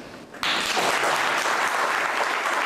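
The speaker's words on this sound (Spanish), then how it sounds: "Quiero por eso que le demos un hermoso y grande aplauso a Amada Orellana." After a brief quiet moment, applause breaks out abruptly at a concert by a musical ensemble, a dense, even wall of clapping from the audience that holds steady to the end.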